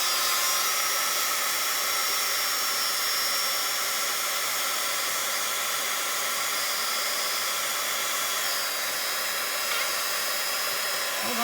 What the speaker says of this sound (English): with my heat tool, I'm just going to emboss that white.